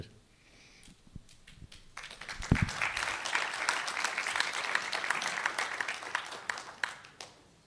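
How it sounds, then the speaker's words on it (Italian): Audience applause in a conference hall in Ozieri, Sardinia, welcoming a lawyer to the podium. A few scattered claps come first, then it swells into steady, fairly distant clapping from the whole room and fades out near the end. "ringrazio innanzitutto la platea intera per questo applauso di incoraggiamento che ha preceduto il mio intervento"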